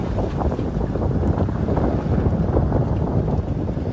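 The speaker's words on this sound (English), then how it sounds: "We do have enough breeze now, 6-7, to at least able to motor sail." A sailboat motor sails at sea in a light breeze, giving a loud, steady roar of engine, wind and water rush with gusty buffeting on the microphone and no voices.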